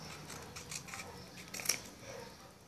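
Scissors snip through Yu-Gi-Oh trading cards in a few quiet cuts, the sharpest and loudest near the middle, with faint handling noise in between.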